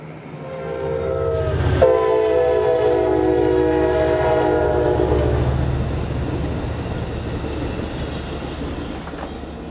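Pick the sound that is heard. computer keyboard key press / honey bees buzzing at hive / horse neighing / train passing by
train passing by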